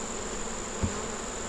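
Honey bees kept by a country beekeeper hum in a steady, continuous drone close by, with no voices over it.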